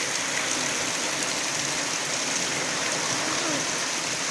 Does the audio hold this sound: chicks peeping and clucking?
no